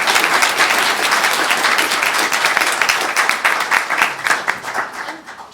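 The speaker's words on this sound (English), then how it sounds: "can we give our panel a big round of applause?" An audience claps for a panel at the close of an admissions and education technology discussion, a full round of applause that holds steady and then thins toward the end.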